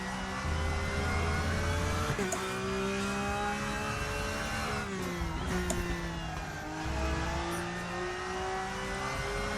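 A race car at Donington Park in the Raceroom racing game accelerates hard out of a corner, its engine a loud, steady whining roar climbing in pitch through several gear changes.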